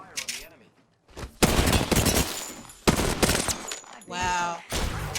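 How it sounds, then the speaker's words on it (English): Gunfire in a battle royale video game: loud bursts of automatic fire in several long volleys, mixed with game effects and a player talking between shots. "Opening fire on the enemy."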